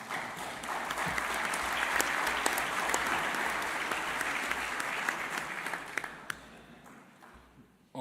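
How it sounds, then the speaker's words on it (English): Audience applause at the World Archery Congress, a broad, even wash of clapping from a large hall that holds steady, then thins out with a few scattered claps near the end. "And we can applaud them, come on."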